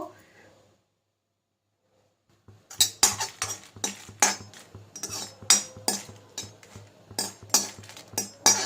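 Dried red chilies being dry-roasted in a pan for olive pickle masala. After a brief quiet gap come rhythmic, sharp metallic scrapes and clanks as a utensil repeatedly tosses them, close and fairly loud.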